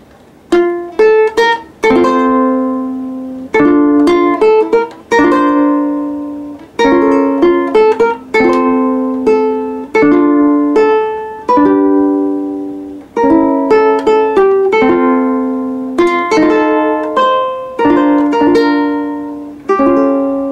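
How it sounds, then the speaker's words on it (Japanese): A high-end G String ukulele strummed and picked alone in a bright, close recording, with repeated chord strokes and short phrases in an even rhythm across the passage. "2本目のウクレレがこちらの G ストリングという高いウクレレという感じでした"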